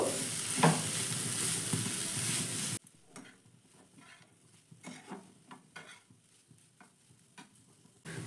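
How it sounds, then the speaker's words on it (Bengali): Spices and vegetables cooking in a pan for a vermicelli snack: a loud, steady sizzle for a few seconds, then quieter stirring with scattered scrapes and light clinks of a spoon against the pan. "এবার সব মশলাগুলো ভালো করে আমি মিশিয়ে নেব।"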